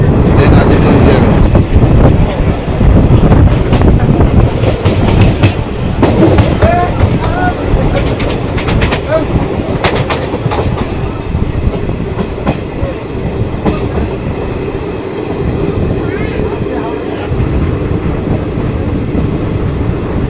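An intercity express train runs on its rails at a station stop, giving a loud continuous rumble with rattling clickety-clack and wind buffeting across the whole stretch.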